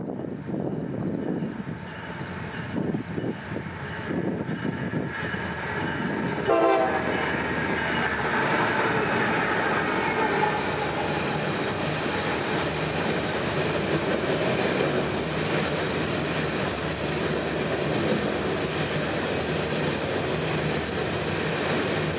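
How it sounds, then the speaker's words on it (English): Freight train L765 rolls northbound at night past a Central Florida line near Winston, a long rumbling pass with a horn blast early on and steady clattering wheels continuing close by. "First customer here would be L765, departing Winston northbound for Orlando just after 8 p.m."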